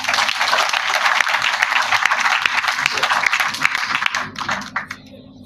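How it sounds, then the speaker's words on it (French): A crowd at a political mobilization rally for the presidential election applauds in a dense, loud burst that holds steady, then thins and fades over the last second. "Sous vos applaudissements"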